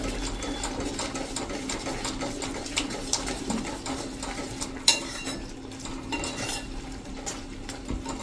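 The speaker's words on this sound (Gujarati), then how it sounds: "આ રીતે આપણે દહીં નાખી અને મિક્સ કરી દઈશું મિત્રો" Curd being stirred into sponge gourd curry in a pan: a spoon scrapes and clinks against metal in a steady, uneven rhythm, close up and fairly quiet, with a faint sizzle underneath.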